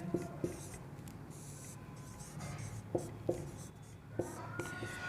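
Chalk or marker writing fractions on a board during a maths lesson, a soft scratchy stroking with short taps and bursts, fairly quiet and close, with no talk.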